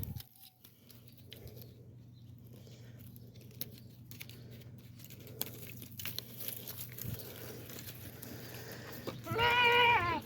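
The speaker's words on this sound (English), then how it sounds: "You're a big old tough billy goat." A billy goat on a small farm gives one loud, close, wavering bleat near the end, after a long stretch of quiet rustling and faint background noise from the pen.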